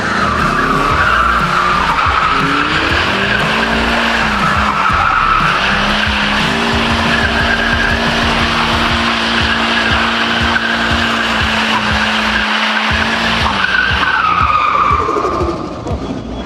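A car drifts in a steady radius near the rev limiter with its tires skidding, producing a continuous loud screech of tire squeal over a hard, high-revving engine drone held for about sixteen seconds, with no one talking.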